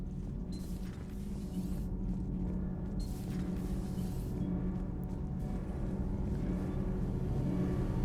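A starship engine room in Mass Effect 3 gives a steady, low droning hum with faint tonal whine, constant and unbroken throughout with no talk.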